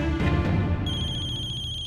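A phone rings with a bright, repeating electronic tone that starts partway through and continues steadily over low background sound.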